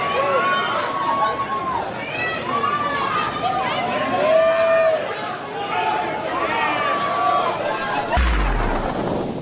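A dense crowd murmurs at a huge outdoor rally of about 100,000 people, steady and loud throughout. Voices and calls rise over the hubbub, which is cut off sharply near the end.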